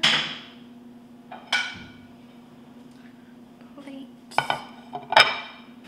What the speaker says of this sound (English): Use like a very big knife to cut an apple